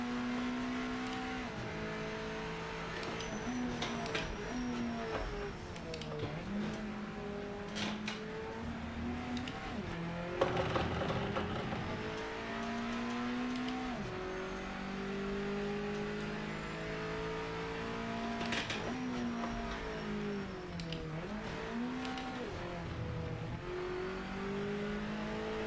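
A race car engine in the racing game Project Motor Racing revs hard and continuously, its pitch climbing and dropping through gear changes with a brief louder burst midway, and no talk over it.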